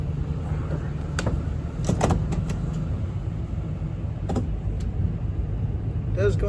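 A Ford E250 Econoline van idles at an auction after starting, giving a steady low engine hum. Occasional clicks and clunks sound nearby.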